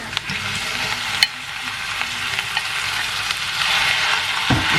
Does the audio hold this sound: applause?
no